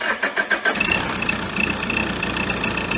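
Opel Vectra C engine cranking with rapid starter pulses, then catching into a loud, rough run close by, and sounding as if it is about to stall; no voices.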